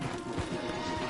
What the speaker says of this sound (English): let's dismount here. We won't get the horses down this path.